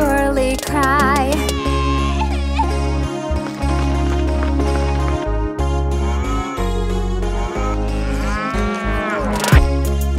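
A musical cow-like moo melody runs through a children's nursery rhyme song, loud, tonal, and sustained, with rhythmic accompaniment and no talking.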